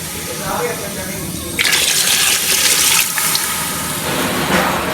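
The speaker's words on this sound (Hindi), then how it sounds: "2 kg के करीब पानी इसके अंदर जाएगा।" Water gushes and splashes steadily into a cooking pot of rice, about 2 kg of water, close by, with a louder rushing stretch in the middle and faint voices underneath.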